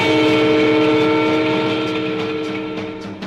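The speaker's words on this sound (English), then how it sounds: "Watch out for the train." A train rolls past with a sustained, loud horn blast held for several seconds, its tones steady then slowly fading as the rail noise continues.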